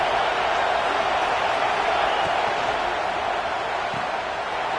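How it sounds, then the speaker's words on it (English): A stadium crowd at a Georgia Tech versus Notre Dame football game roars in a broad, sustained wash of cheering noise. It stays loud and even throughout with no pauses. "This crowd bringing the energy and noise early."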